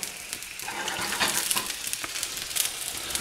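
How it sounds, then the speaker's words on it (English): Potatoes sizzle in a hot pan, a steady crackling hiss with small pops and bursts of spitting fat that rise and fall over a few seconds, close by. "So the potato pan, looking hot. You can hear the sizzle."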